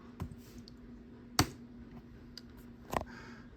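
Sparse clicks from a Mac Pro 2012's computer keyboard, three distinct taps spread over a few seconds over a steady low hum, fairly faint, with no voices.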